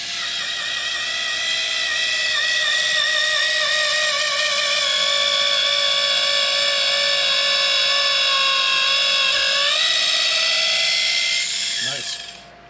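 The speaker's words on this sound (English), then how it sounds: "Drill right through this 2x4." A MicroLux high-torque quarter-inch drill whines at a steady high pitch as it bores through a 2x4, the tone dipping slightly under load before the motor winds down at the end.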